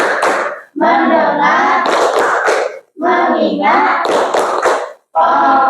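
A classroom of children performs the Tepuk Fokus clapping chant, with bursts of rhythmic hand claps alternating with loud group chanting and short pauses between lines.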